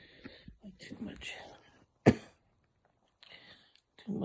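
A single short, harsh pneumonia cough bursts out between quiet, breathy talk and throat sounds, close to the microphone.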